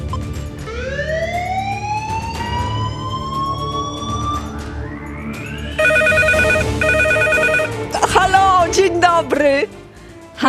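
On a Polish TV phone-in game show, a rising electronic tone sweeps upward, then a steady, repeating telephone-style ring pulses loudly, followed by brief jingling effects.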